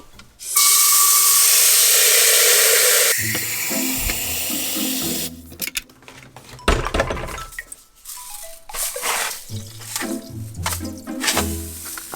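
Water pours steadily from a tap into a humidifier tank for citric acid cleaning, a loud close hiss for a few seconds, followed by clinks and knocks of the lid and parts being handled.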